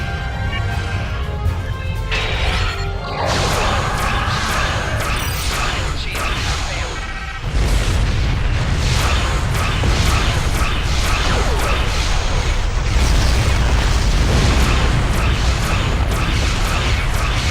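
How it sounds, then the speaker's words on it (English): A Romulan ship's singularity core explodes in Star Trek Online with a loud, sustained burst of rumbling, crashing noise over steady game sound, a voice briefly talking as it erupts. "since Romulan ship use singularity core, they have a unique explosion if you destroy it"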